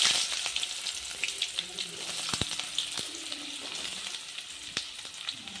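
Mustard seeds and onion crackle in hot oil while tempering for bisi bele bath: a steady, close hiss with scattered pops and a few sharp ticks of stirring.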